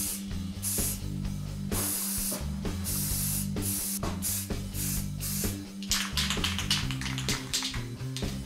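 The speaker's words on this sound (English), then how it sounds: "Spray paint the rest." Aerosol spray paint hisses in repeated bursts of a second or so each, coating scrap metal flowers green. The bursts sound close and steady, broken by brief pauses and a few quicker taps of the nozzle near the end.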